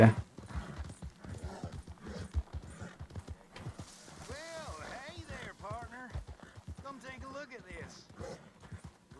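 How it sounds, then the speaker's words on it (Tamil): Horse hooves clip-clop in a steady, brisk rhythm across ground in the video game Red Dead Redemption 2, heard close and clear beneath someone talking almost continuously. "இந்த இடத்துல ஒரு குதிரை மடை தனியாக இருக்குது."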